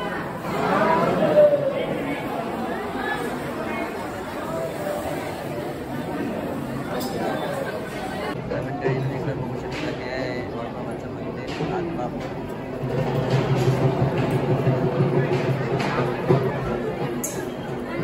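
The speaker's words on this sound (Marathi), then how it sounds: "किती गर्दी आहे इकडं पण सुद्धा" Dense crowd chatter at Balumama Temple in Adamapur: a steady babble of many voices from a busy temple crowd, close and continuous, with a person talking over it.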